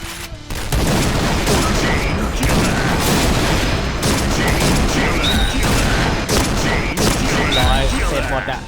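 Gunfire in a shooting video game, with dense, continuous bursts of rapid shots and booms that run nearly the whole time, loud and close, while a player talks over the action.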